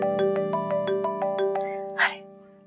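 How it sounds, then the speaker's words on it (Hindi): A phone ringtone sounds for an incoming call in an indoor drama scene, a steady run of about eight evenly spaced melodic beeps, close and clear, ending just before a brief voice. "अरे अयाज का फोन आ गया।"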